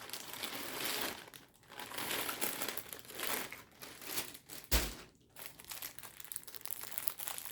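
Plastic packaging for reusable cloth pads crinkles and rustles continuously as it is handled and opened up close, a dense crackling texture with a sharper crunch midway and no talking.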